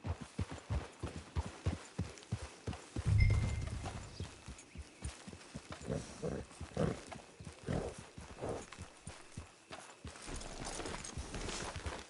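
Horse hooves clip-clop in a steady trotting rhythm in Red Dead Redemption 2 Online, moderately close, with a brief louder thump partway through.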